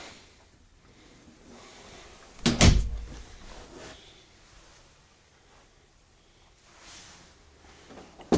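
A coat closet door in a 2012 Forest River Quailridge park model RV opens with a brief knock and rattle, followed by softer handling noises and a faint bump near the end.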